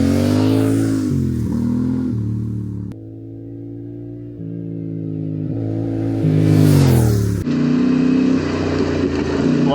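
A Yamaha Tenere 700 adventure motorcycle rides a dirt road near Black Canyon Road, its twin-cylinder engine rising and falling in pitch through gear changes, loud and close, with wind rush and no talk.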